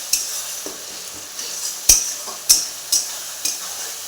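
Browned onions and spices for ghugni fry in a pan with a soft background sizzle, broken by several sharp, close scraping clacks of a spatula stirring at irregular intervals.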